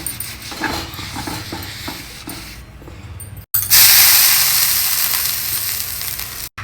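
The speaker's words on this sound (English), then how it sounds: "I have kept a tawa for heating. Just add a few drops of oil and wipe it all around." Oil sizzling and hissing loudly as a few drops are wiped across a hot tawa for dosa, a sudden bright spray of sizzle after quieter stirring and scraping sounds, continuous and close.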